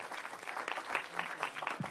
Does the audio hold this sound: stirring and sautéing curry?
no